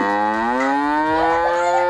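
A cartoon cow in a children's game gives one long, loud, close moo that rises slightly in pitch and holds for nearly two seconds with no talk over it.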